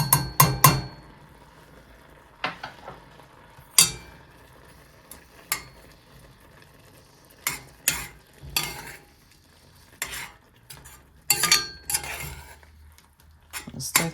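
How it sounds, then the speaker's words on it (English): A spoon stirs brown sugar and cinnamon into a dish, giving scattered clinks and scrapes against the bowl, sharp and close, spaced irregularly with quiet gaps between. "stir that all in"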